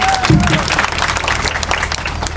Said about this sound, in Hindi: सारे लोग एक बार प्लीज जोरदार तालियां अंजलि के लिए